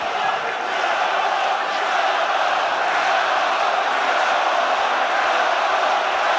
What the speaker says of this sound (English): Crowd trying to spur Luke Campbell on, cheering Campbell.